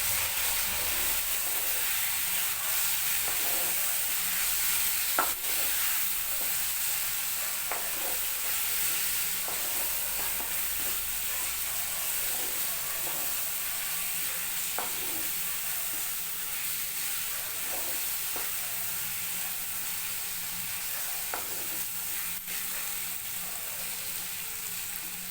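Whole spices and half a spoon of coriander powder fry in a pan for a meat dish, giving a steady, even sizzle broken by occasional soft scrapes and clicks of stirring, with no talking.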